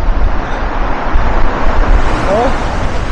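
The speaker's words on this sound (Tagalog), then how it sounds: "Ang lakas ng hangin." Strong wind buffets the microphone at a Quezon seaside campsite during a fishing trip, a steady loud low roar lasting throughout with a faint whistling tone near the end.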